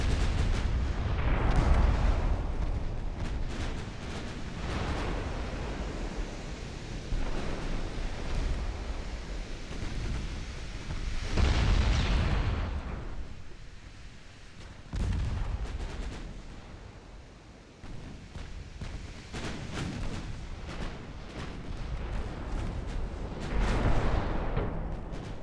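Rumbling naval battleship gunfire in Ultimate Admiral: Dreadnoughts, heavy distant booms rolling over a constant wash of sea and wind noise, swelling and fading across the engagement.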